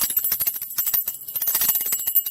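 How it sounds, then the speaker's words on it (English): A small bell is shaken for a Montessori-style sound identification activity, giving a fast, continuous jingle of bright, high ringing taps, close and fairly loud, with no voices. "That's the bell."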